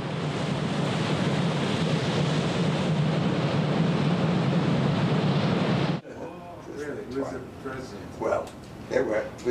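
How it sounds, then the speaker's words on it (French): Large ocean waves breaking on a coast, a loud continuous roar of surf for about six seconds that cuts abruptly to quieter ambient noise with faint scattered sounds. "D'immenses vagues déferlent perpétuellement sur ces côtes."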